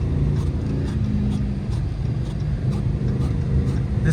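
Dodge Charger engine revving in deep snow during a winter storm, a steady loud low rumble throughout with the car struggling in first gear and no voice over it.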